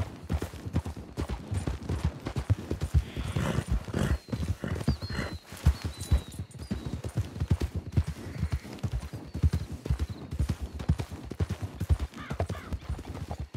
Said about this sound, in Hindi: मैं घोड़े को कुछ खिला रहा हूँ